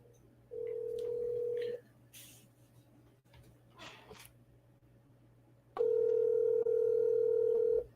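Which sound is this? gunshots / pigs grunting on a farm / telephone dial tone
telephone dial tone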